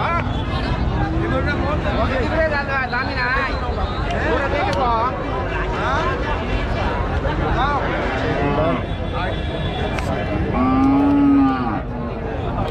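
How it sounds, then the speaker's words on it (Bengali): Several cattle, bulls and cows, moo loudly and repeatedly at a livestock market, one low drawn-out call standing out near the end, amid a busy murmur of people talking. "প্রচুর পরিমাণে গরু আমদানি আছে আজকে।"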